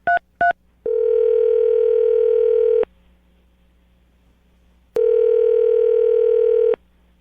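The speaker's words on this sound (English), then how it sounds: "I'm going to dial the phone number right now" Two quick dialing tones, then a steady telephone dial tone that stops, a pause of near silence, and another long dial tone.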